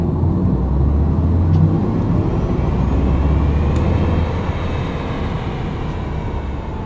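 A smooth, futuristic synthetic drive tone from an Audi e-tron GT electric car hums steadily over low rumbling road noise, holding a sustained whine without any talking.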